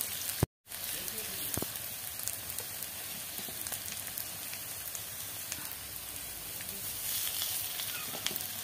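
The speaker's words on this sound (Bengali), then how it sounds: "সব কটা বড়া দিয়ে দেবো, আর এই কটা আছে অল্প করেই ভাজা হচ্ছে" Coriander leaf fritters fry in oil in a wok with a faint, steady crackling sizzle and occasional pops, heard close up after a brief cut near the start.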